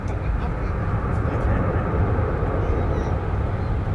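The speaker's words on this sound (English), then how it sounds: "that was Spirit Airlines, an Airbus A321" Spirit Airlines Airbus A321 airliner at DFW Airport: a steady broadband jet roar fills the whole stretch, sounding fairly distant and constant in loudness.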